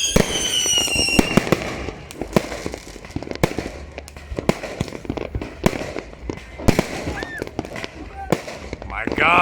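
New Year fireworks and firecrackers going off all around in Phuket, a dense, uneven barrage of cracks and pops near and far, with whistling rockets and people talking throughout.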